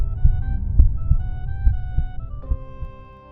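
Rhythmic low thumping of a newborn baby's heartbeat, steady repeated pulses over a soft hum and background music, fairly close and moderately loud.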